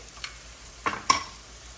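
A spice tempering fries in oil with salt for a pesara aaku pappu, giving a faint, quiet sizzle broken by two or three sharp stirring scrapes.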